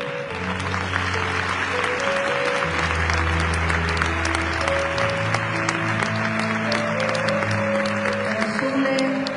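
Big applause fills a copla and flamenco concert hall, a sustained dense wash of clapping over lingering held tones from the stage.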